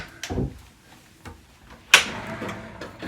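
Cabinet drawers slide out in a Norwegian Prima cruise ship stateroom closet, giving a few soft knocks and thuds and then one sharp, close clack near the end.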